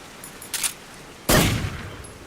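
Gunfire in Metal Gear Solid 3: Snake Eater, a short muffled burst followed by a louder sharp shot that rings out and decays, no talking.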